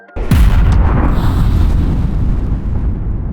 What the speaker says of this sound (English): the explosion, well, that was all done practically, not with CGI